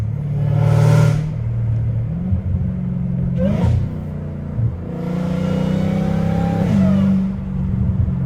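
Straight-piped Dodge Hellcat Redeye with its supercharger whining, revving loudly up and down in several close, sustained pulls over a deep exhaust rumble.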